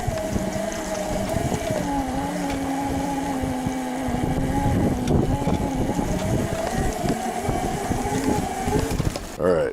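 An off-road electric scooter fitted with a 7.5 inch gear grinds up a steep 23-degree dirt hill on high setting, its motor whine rising and falling steadily throughout, with wind buffeting the microphone close by.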